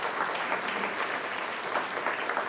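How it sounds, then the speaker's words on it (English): An audience at a medical talk on peripheral artery disease applauds the doctors, a steady wash of many hands clapping, moderately distant and even throughout, with no voices. "Can we get a round of applause for our doctors"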